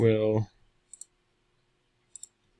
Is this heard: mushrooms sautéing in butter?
no